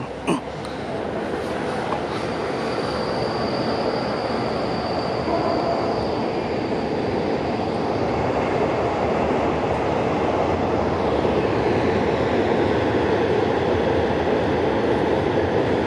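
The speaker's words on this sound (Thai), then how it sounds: "รถด่วน 84 เข้ามาแล้ว" Thai express train No. 84 rumbles past close by, approaching Krung Thep Aphiwat Central station, in a steady, loud roar of wheels on rails, with a faint high squeal running through the middle.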